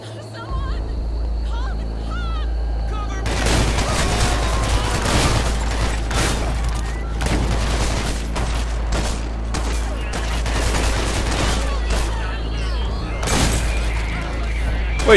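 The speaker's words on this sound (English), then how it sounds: "Stop shooting me." Enemy gunfire crackles in the shooter game Hatred, repeated volleys of shots over a constant low rumble that rise in dense bursts, with someone talking through parts of it.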